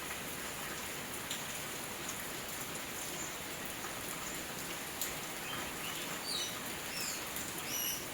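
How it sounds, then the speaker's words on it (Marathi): Heavy rain pours steadily over a Konkan village in Ratnagiri district, a dense, even hiss close by, with a few faint bird chirps in the background and no voices. "पाऊस मित्रांनो आता वाढला आहे"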